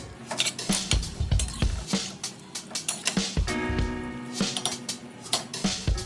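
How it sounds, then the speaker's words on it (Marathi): Chicken sautéed with ginger and garlic for an onion-tomato chicken curry, a spatula clattering and scraping repeatedly against the pan in quick uneven strokes, fairly loud and close. "चिकनला खूप चांगल्या प्रकारे परतून घ्यायचं आहे जेणेकरून अद्रक आणि लसूणचा कच्चापणा कमी व्हायला पाहिजे"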